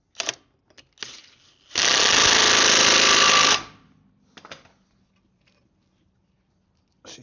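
Pneumatic impact gun working on Defender 90 wheel bearing parts in a workshop: one loud, sustained rattling burst of nearly two seconds, with scattered clanks and tool handling before and after.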